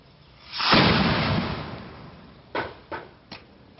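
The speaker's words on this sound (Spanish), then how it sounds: "Esta explosión, al final de cuentas, fue un problema a la hora de venir y calcular las variables químicas de la mezcla de combustibles." A metal rocket motor explodes during a test, a loud broadband blast that roars and decays over about two seconds, followed by three sharp, shorter bangs or pops.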